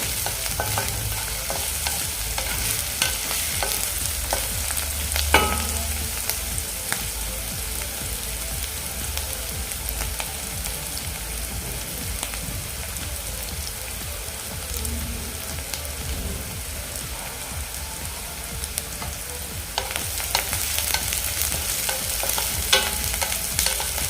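Onion frying over a medium flame until golden brown, a continuous close sizzle like rain with periodic scraping as it is stirred in the pan, and no talking.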